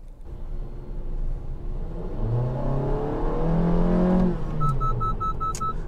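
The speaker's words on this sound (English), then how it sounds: "you heard the gearbox, it's just whining" A Honda Jazz 1.5 engine drones and rises in pitch with a steady gearbox whine climbing over the rumble, then a few electronic driver-assistance collision warning beeps chime near the end.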